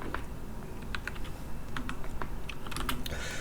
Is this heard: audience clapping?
no